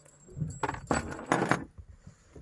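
Car keys set down onto a surface, a few short metallic jingles and clinks spread over about a second, close and fairly quiet.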